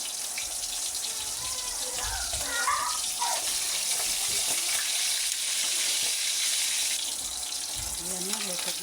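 Milkfish (bangus) frying in hot oil, a steady loud sizzle with crackling spatters throughout, while a voice talks faintly underneath.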